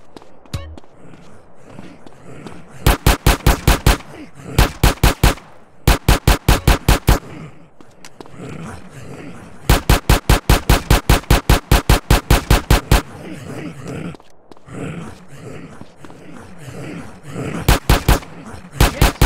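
Rapid bursts of gunfire from GTA San Andreas with the Left 4 Theft mod, loud clusters of sharp shots repeating in several volleys separated by short gaps over a low background rumble.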